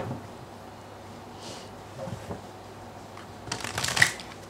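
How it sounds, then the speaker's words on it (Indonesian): Tarot cards being shuffled by hand, soft riffling and sliding that builds into a louder, crisp flurry of card flicks near the end, close and without speech. "terutama ketika aku shuffle kartu ini"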